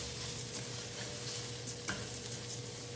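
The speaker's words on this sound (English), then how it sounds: "Give it a good stir." Oats cooking in a pan are stirred, giving a faint, steady bubbling hiss with soft scraping and a few light clicks of the utensil, quiet and continuous.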